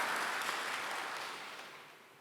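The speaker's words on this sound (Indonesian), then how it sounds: "tepuk tangan bagi Allah kita" Church congregation applauding during a worship service, a broad wash of many hands clapping that begins full and gradually fades out, heard from a distance with no voices over it.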